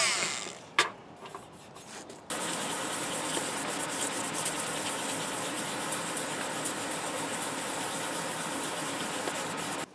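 A Chelsea Super 5 radio cabinet being sanded, after a few faint knocks and a sharp tap, a steady, even scratchy rubbing starts and continues unbroken for about eight seconds, close and alone.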